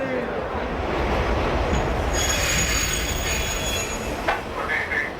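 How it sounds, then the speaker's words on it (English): A train at Porta Nuova station in Turin, Italy, rolls by with a steady rumble and rising, high-pitched wheel squeal that holds through most of the clip. "This is the Porta Nuova train station."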